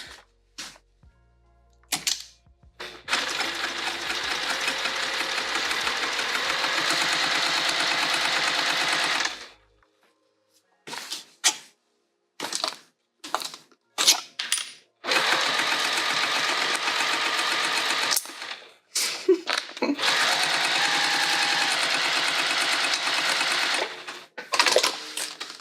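A sewing machine stitches a tote bag in bursts, a steady rapid mechanical whir for several seconds, then many short stop-start runs with pauses and soft clicks between.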